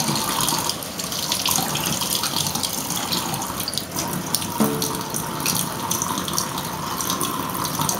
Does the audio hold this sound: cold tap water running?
yes